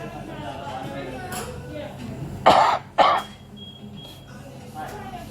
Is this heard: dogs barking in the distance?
no